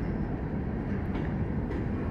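Norfolk Southern freight train of solid double hopper cars rolling past near East Binghamton, a steady low rumble with faint wheel clatter and no talk.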